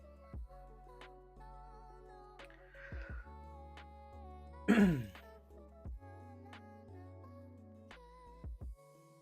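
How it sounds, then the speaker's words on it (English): A single sharp throat clearing or cough bursts out close by, partway through, over quiet background music. "a cough"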